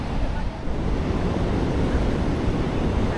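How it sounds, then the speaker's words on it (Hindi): Sea wind gusting over the shore near a Bali beach, with a continuous roar of waves and wind buffeting the microphone, loud and unbroken throughout. "समुद्र के पास हवा अच्छी होती है ना।"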